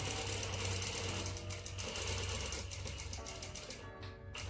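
Sewing machine running a continuous straight stitch down an inseam pocket, a fast even mechanical rattle with a low motor hum underneath, close and steady, tapering slightly toward the end, with no voices.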